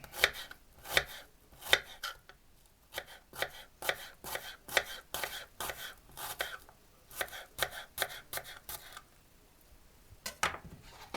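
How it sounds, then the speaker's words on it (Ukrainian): A knife slices an onion thinly on a cutting board, each crisp tap following the last in a quick, even rhythm with brief pauses, close and clear with no voices. "І так ріжемо цю цибулю тоненько."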